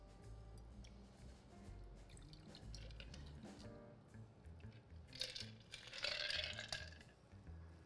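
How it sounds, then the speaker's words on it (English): Chilled cocktail is strained from a shaker onto hand-picked ice cubes in a glass, with soft liquid drips and light clinks that rise into a brighter, louder pour and crackle of ice near the end. "Now I can strain this cocktail right over this ice."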